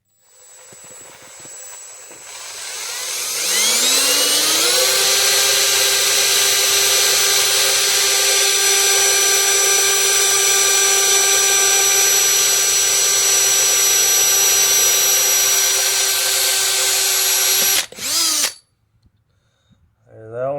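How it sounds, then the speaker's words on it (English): A power drill boring holes in the throttle blades of an AVS2 carburetor, winding up to a loud, steady high-pitched whine that holds for about fifteen seconds before stopping abruptly. "I'm gonna see if I can drill this with one hand."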